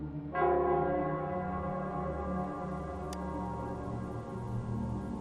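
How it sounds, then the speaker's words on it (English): Large bell in the Wuthering Waves video game, the Nell Square bell, strikes once near the start and leaves a long, rich ringing tone that slowly fades under ambient game sound, with no voices. "it's the Nell Squares bell"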